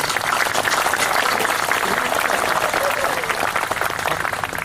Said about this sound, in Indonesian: Ayo, tepuk sing banter